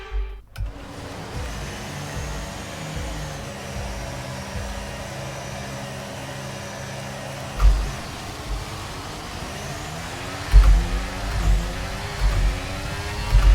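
Formula 1 cars in the racing game F1 23 launch off the grid at the start of the Australian race: a loud, continuous engine drone with rising, shifting pitch and a few sharper surges late on, no talking.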